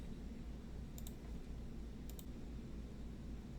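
A computer mouse clicks twice in quick succession, then twice again about a second later, crisp and faint over a steady low hum and hiss from the computer.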